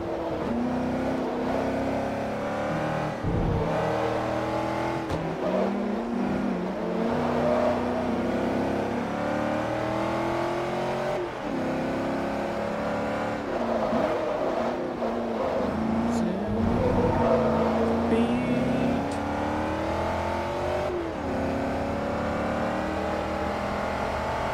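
A race car engine in Forza Motorsport 3 revs and climbs through its gears again and again, steady and loud for the whole stretch, while a voice talks over it.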